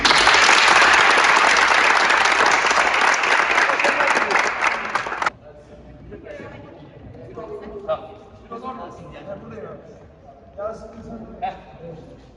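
An audience gives strong applause for women volleyball players and their coaches during a visit by artists, loud sustained clapping for about five seconds that cuts off abruptly, followed by quieter room noise and scattered voices.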